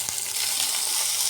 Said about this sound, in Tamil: இப்போ பாருங்களேன், நல்ல வெங்காயம் நல்லா ஃப்ரை ஆகிட்டு கேப்சிகமும் நல்லா ஃப்ரை ஆகிடுச்சு